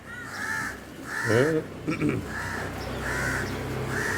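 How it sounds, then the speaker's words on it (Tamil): A crow incubating eggs in its nest caws repeatedly in steady, evenly spaced calls, fairly close, with a brief burst of other bird chatter in the middle and low background noise. "காக்கா வந்து அடை காத்துக்கிட்டு இருக்காங்க."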